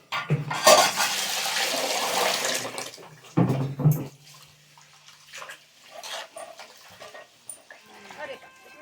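Running water splashes loudly for a few seconds as something is rinsed, then a second short burst follows, with quieter handling noises and light clatter afterward.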